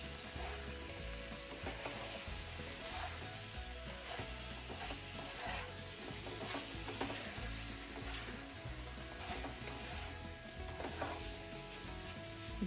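Paneer jalfrezi sizzles steadily in a frying pan while a spatula stirs it slowly, a dense continuous fry with soft scraping and mixing strokes, fairly quiet and even.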